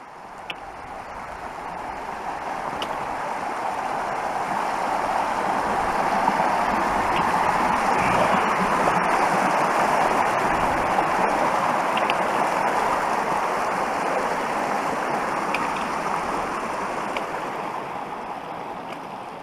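Steady rushing water of a mountain creek along a trail near Pinto Lake, a broad continuous wash that swells gently in the middle and stays even throughout, with no talking.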